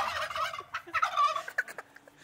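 Turkeys gobble in a burst of rapid, warbling calls, loud and close, followed by a few shorter gobbles trailing off.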